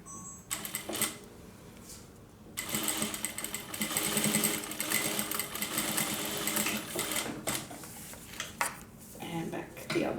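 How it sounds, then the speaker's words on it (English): A sewing machine straight-stitches along the edge of a crossbody handbag, a rapid mechanical clatter that starts after a brief pause and runs on steadily, close and fairly quiet. "I'm going to place my foot right on the edge, and I'm going to straight stitch down."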